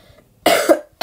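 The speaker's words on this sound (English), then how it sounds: "I got bad coughs there" Two harsh, close coughs, a long rough one followed by a brief second burst, loud and alone with no talking.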